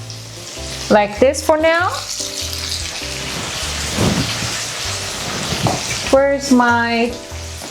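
Potatoes fry in a hot, full pan with a steady crackling sizzle and spatters, close by, while a person talks over it in short bursts.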